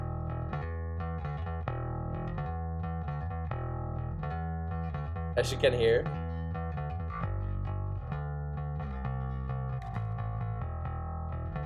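Bass guitar line in a GarageBand song, played by a basic bass player adding octave jumps with slides, running steadily under the full mix with a brief higher flourish midway, with a voice briefly speaking over it.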